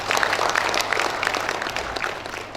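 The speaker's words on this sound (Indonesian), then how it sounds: "Kasih tepuk tangan dulu." An audience at a graduation ceremony gives a short burst of applause, quick irregular claps from a moderate crowd, close and lively, continuing steadily to the end.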